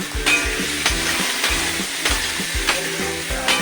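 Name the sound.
potatoes frying in oil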